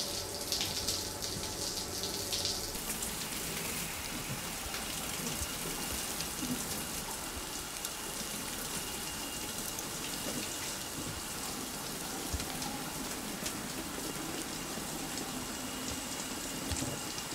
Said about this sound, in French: je vais en profiter pour prendre une petite douche.